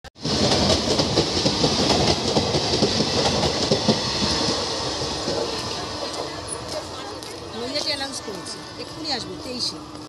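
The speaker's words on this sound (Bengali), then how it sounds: "ট্রেন আছে এখন জানো।" A train rumbles past at a station in Bengal, loud and steady with broadband clatter for most of the stretch, easing slightly toward the end; people talk over it.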